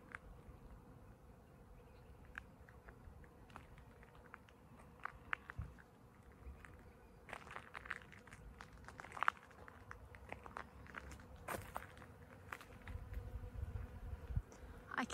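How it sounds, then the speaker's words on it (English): Bees buzz faintly around blooming trees at a sports complex in Gnowangerup, Western Australia, a soft, steady drone with scattered rustles and footsteps, distant and low. "I can hear the bees are buzzing."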